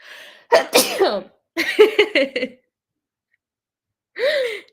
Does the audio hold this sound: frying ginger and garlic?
no